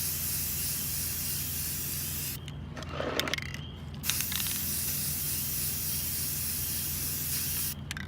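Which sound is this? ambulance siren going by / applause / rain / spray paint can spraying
spray paint can spraying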